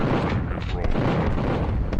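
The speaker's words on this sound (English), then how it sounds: "explosions in your face in this game really" Explosions in the first-person shooter Duke Nukem 3D roar continuously and loudly, a dense booming, overdriven blast that saturates the whole clip, with a voice faintly present underneath.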